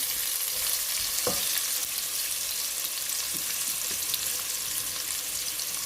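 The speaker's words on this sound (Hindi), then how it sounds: "ये प्याज डाल दिया हमने, इसको थोड़ा सा हमने लाइट ब्राउन करना है।" Onions sizzling steadily in a pan for dhaba-style maash daal, a constant loud frying hiss with occasional faint stirring clicks, no talking.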